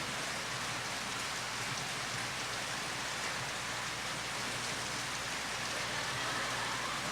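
Steady rain falls during a church service, a constant, dense hiss of drops on a surface with no talking.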